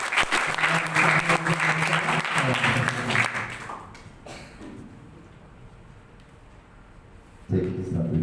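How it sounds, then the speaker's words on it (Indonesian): An indoor audience claps to welcome a speaker at a public health event, dense applause for about four seconds that thins and fades, with speech cutting in near the end. "mari kita berikan aplaus untuk beliau"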